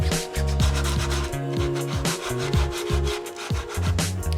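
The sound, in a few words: sanding a PETG 3D-printed helmet with 220 grit sandpaper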